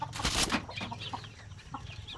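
Chickens cluck in short, scattered calls at close range, with one louder burst at the start and a faint background murmur.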